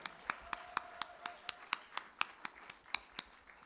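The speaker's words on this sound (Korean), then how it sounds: "다시 한번 큰 박수 한번 쳐주세요" Applause at a church Christmas celebration comes as rhythmic, evenly spaced claps at moderate volume, with no talking over it.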